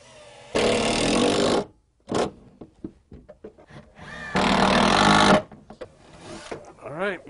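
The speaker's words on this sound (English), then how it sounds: "grab my drill, grab a couple of the Kreg screws," A Kreg power drill drives Kreg pocket screws into a wooden twin bed frame with storage drawers: two loud, close, sustained whirring runs of about a second each, separated by quieter handling noises.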